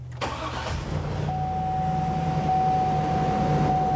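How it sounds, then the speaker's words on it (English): A 2003 Hummer H2 engine cranks briefly and catches, then settles into a steady, close idle with a faint electronic whine running underneath. "So I'm going to go ahead and start up the vehicle."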